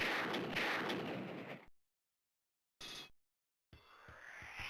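A bomb explosion in the arcade shoot-'em-up DonPachi, a loud crackling burst that cuts to silence, followed by a brief blast and then another rumbling, crackling explosion with rapid repeated booms.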